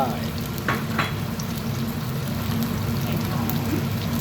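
Asparagus stir-fries in a hot pan, giving a steady, moderate sizzle with a few sharp spatula scrapes near the start and soft background hiss.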